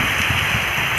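Heavy rain pours down at night beside a road, a dense, steady hiss of falling water, loud and close for a brief second with no voices.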